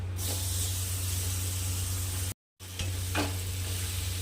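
Chopped capsicum sizzles and fries in hot oil in a pan, a loud, steady hiss close by with a low hum beneath, briefly cut off midway before the frying resumes with light stirring scrapes.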